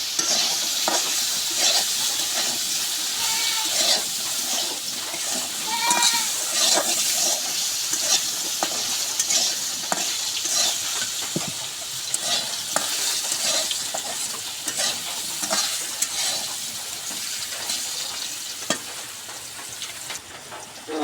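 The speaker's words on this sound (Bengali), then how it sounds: "একটু লবণ দিলাম, হলুদ গুঁড়া, এটা ভাজে নেব।" Food frying in a pan with salt and turmeric powder, a steady sizzle and crackle with repeated stirring and scraping sounds over about twenty seconds.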